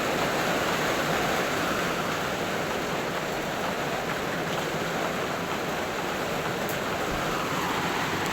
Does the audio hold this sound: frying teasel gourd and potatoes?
no